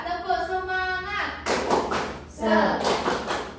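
Schoolchildren in an elementary science class chant and clap the Indonesian spirit clap, bursts of rhythmic hand claps and taps mixed with young voices and a teacher's speech.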